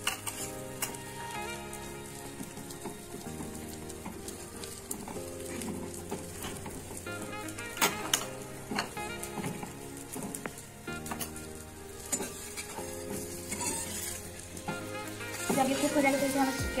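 Butter sizzling and frying in a pan, a continuous crackle heard beneath music with occasional stirring knocks, rising slightly louder at the very end.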